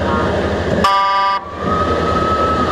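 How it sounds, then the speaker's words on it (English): A fire truck at a small-town parade in Cadyville sounds a loud, close electronic siren burst over busy crowd and traffic noise, followed by a thinner, sustained tone. "And hearing those sirens"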